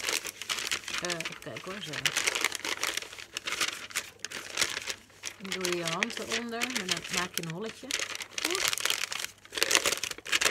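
Sheets of magazine or newspaper paper are crumpled and scrunched by hand at close range, crackling continuously while someone talks over it.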